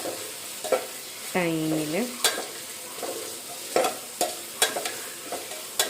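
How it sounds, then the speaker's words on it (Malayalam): Onions frying on high flame in a pan, crackling steadily while a spoon scrapes and stirs in repeated sharp strokes; a brief whining tone rises in the middle, and a single word is spoken faintly. "അതുവരെ ഹൈ ഫ്ലെയിമിൽ വെച്ചിട്ട് നന്നായിട്ട് ഫ്രൈ ആക്കി കൊടുക്കാം."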